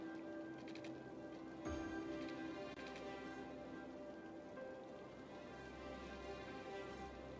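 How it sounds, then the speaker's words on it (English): Rain falling in the city-building game Cities: Skylines, a steady, soft patter that hisses evenly throughout, faint and continuous with a few light tonal hums underneath and no speech. "It's raining."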